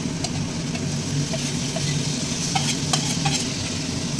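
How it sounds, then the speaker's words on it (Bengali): Spices fry in oil in a pan with a steady, close sizzle, while a utensil scrapes and stirs through them at irregular moments. "এবার এই মশলাটাকে আমি ভালোভাবে কষিয়ে নেব।"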